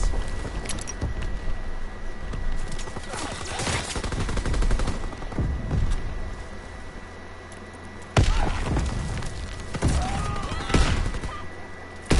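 Gunfire in the video game Call of Duty, with dense bursts of loud shots and sharp cracks over a constant game background, including a sniper firing.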